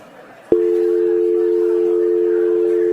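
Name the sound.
vocal imitation of a telephone dial tone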